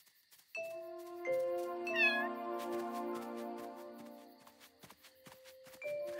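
A cartoon cat meows loudly and repeatedly with long, drawn-out tonal cries, close by and alone, with a few soft footstep-like taps.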